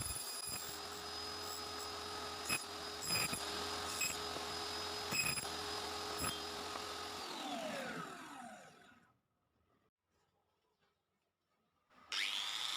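A power saw cuts steadily through a laminate-faced board with a loud, whining buzz and a few sharp knocks, then spins down into silence before starting again.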